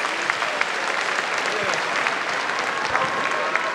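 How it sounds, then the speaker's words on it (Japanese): Loud, close crowd applause fills a kickboxing event hall after fighters speak before a RISE World Series final, with dense continuous clapping and a few sharper individual claps standing out throughout. "今一度盛大な拍手をお願いします。"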